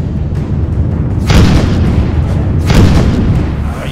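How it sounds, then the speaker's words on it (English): Ship's guns in the game Airlords of Airia fire as two heavy booming blasts about a second apart, over a continuous low rumble. "the guns are ready to fire"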